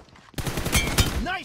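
A few sharp gunshots crack in quick succession in a first-person shooter match, loud and close, with a voice speaking briefly afterward.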